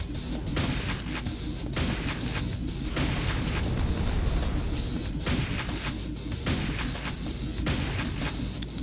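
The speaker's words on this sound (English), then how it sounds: "their machine gun is terrible" Machine gun fire in Quake II: rapid, loud, continuous bursts of gunfire with booming impacts, sounding in repeated waves over a dense, noisy game background, with no voices.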